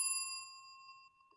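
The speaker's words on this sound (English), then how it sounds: "we're going to ring the bell again" A single clear bell struck once, ringing with a bright, sustained metallic tone that slowly decays, heard alone and fairly faint.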